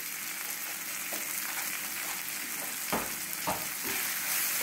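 Asafoetida frying with roasted tomatoes in a pan, a close steady sizzle with a few soft stirring taps, no speech.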